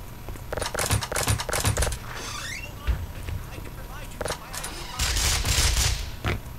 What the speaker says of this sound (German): Ich höre schon wieder Schüsse.